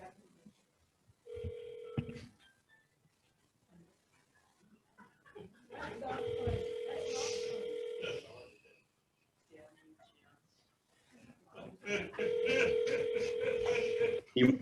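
Telephone dialing and dial tones during a convention banquet and awards event: three stretches of steady electronic phone tone, the later two mixed with crowd chatter and people talking nearby.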